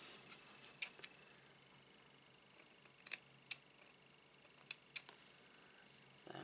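Glitter scissors cut through card stock in a quiet crafting room, giving sparse, sharp snips spaced irregularly, close and faint, with no talk.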